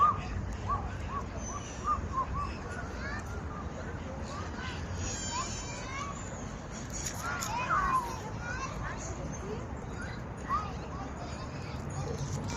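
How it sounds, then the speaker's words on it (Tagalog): Many birds calling in Lake Park, Abu Dhabi, scattered chirps and calls over a steady outdoor background, with people talking faintly throughout. "See, even in down the bridge, there's so many bird."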